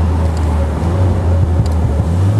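A 2024 Morgan Plus 4 engine hums at a low pitch while it is flicked through the gears, its drone wavering briefly around each shift and staying loud and close throughout.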